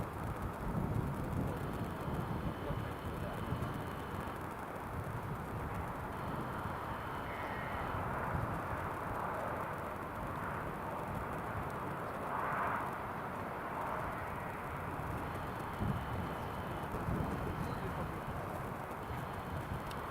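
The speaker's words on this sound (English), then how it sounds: "that's a Q80 just vacating the runway" A Q400 turboprop airliner taxis off the runway at Newcastle International Airport, giving a steady, fairly distant engine drone under wind noise, with faint crow caws and a little talk.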